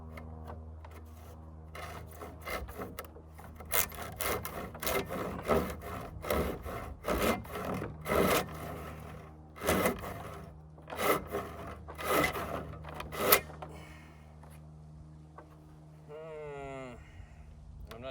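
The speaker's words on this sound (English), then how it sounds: "Well, now it's also a handsaw." Wood being sawn by hand with a handsaw while building a second floor onto a fort, with a steady run of rasping back-and-forth strokes, close and fairly loud, alongside a low background hum and a brief voice near the end.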